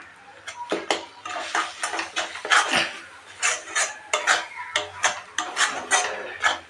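A utensil scrapes and stirs mashed lentil filling seasoned with salt in a pan, giving repeated close rubbing and clinking strokes in an uneven rhythm.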